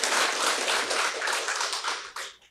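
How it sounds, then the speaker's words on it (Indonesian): A crowd applauds law faculty graduates at a university graduation ceremony for law degrees, giving dense, steady clapping that carries on for a couple of seconds before tapering off. "Tepuk tangan untuk para yudisiawan dan yudisiawati Fakultas Hukum Universitas Hang Tuah"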